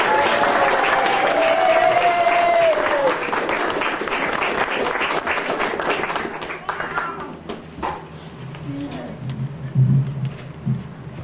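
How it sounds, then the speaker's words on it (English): Audience at a family reunion talent show applauds loudly for several seconds, the clapping gradually thinning and fading out, with a voice and some chatter rising underneath toward the end. "Big round of applause, everybody."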